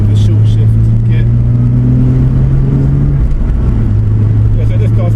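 A Toyota Supra MK4 with a six-speed R154 gearbox and short shift kit, running about 350 horsepower, drives with a loud, steady engine drone close by, its pitch shifting slightly as it goes.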